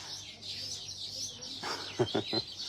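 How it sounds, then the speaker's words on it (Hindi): Faint, high bird chirps sound repeatedly over a quiet outdoor background, with a few louder, short sounds near the end. "बहुत ज्यादा चहचहाने की आवाज आ रही है।"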